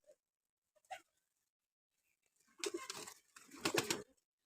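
Beauty pigeons, Teddy and Rampuri breeds, give a couple of faint, isolated calls, then two longer bursts of soft, throaty cooing close by in an otherwise quiet setting.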